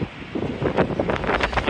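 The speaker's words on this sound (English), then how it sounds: "it's super windy out here" Strong gusty wind buffets the microphone outdoors beside a body shop, roaring in uneven surges throughout with no voices.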